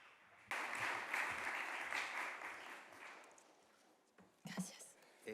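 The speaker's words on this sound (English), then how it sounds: "See a big round of applause, please." Audience applause breaks out at a film press conference for the documentary Bigger Than Us, a steady round of clapping from a crowd that fades gradually before a brief second burst near the end.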